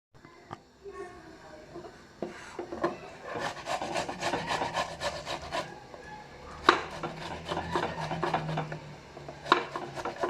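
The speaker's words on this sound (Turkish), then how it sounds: "Şimdi ben domatesleri de rendeleyeyim." Tomatoes rubbed against a metal grater for a fellah köfte sauce: a steady run of coarse rasping strokes, close and fairly loud, repeating in quick rhythm with a few brief pauses and no voices.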